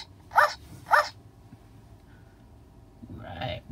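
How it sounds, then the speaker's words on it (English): Two sharp dog barks in quick succession, followed by a pause and a softer, lower bark-like sound, fairly close. "He barks loudly."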